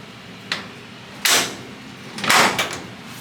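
A 1958 Chevy Apache truck door latch clicks shut a few times, sharp close-up clunks separated by short pauses.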